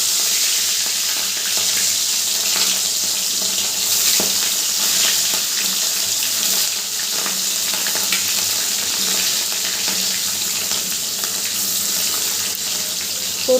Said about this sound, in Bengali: তেলটাও গরম হয়ে গেছে। এবারে আমি তেলের ভেতর একে একে মাছগুলো দিয়ে দেবো।